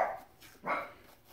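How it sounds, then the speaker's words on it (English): Small miniature dogs bark indoors, two clear barks about half a second apart, moderately close, with no talk over them. "And my dogs are going off."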